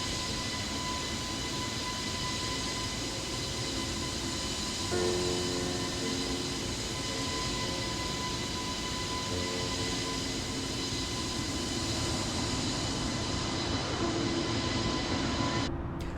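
Airbus A330-900 engines in flight in Microsoft Flight Simulator 2020, a steady loud jet drone with tonal whine holding throughout, some shifting tones midway, alone without talk.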